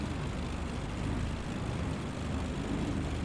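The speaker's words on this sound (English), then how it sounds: "Cool looking little plane." Steady droning engine of a small propeller plane in Microsoft Flight Simulator 2020, a continuous moderate hum with no talk.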